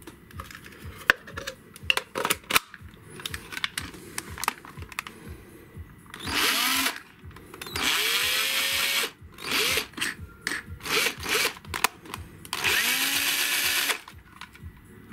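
A cordless screwdriver drill powered from a power bank whirs in several bursts of a few seconds each, with motor pitch rising at each start, separated by clicks and handling noise, close and alone without talk.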